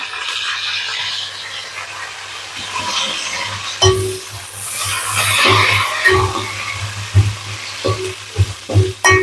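Cumin, mustard seeds, dry red chillies and curry leaves sizzle and spatter in hot oil for prawn gongura curry, a steady loud crackle that sharpens partway through with stirring scrapes and pops.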